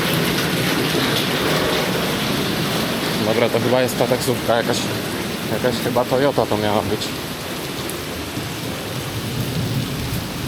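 Steady heavy rain pours throughout in Vietnam, with someone speaking over the downpour for a few seconds in the middle.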